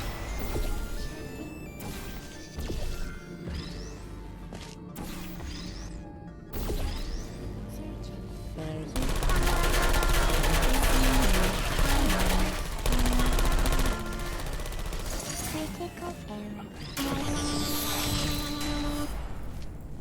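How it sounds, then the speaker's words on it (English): Automated sentry turrets spray bullets in Portal 2, with rapid bursts of gunfire crackling over dense game music and effects, growing louder and fuller midway before easing off. "This next test involves turrets."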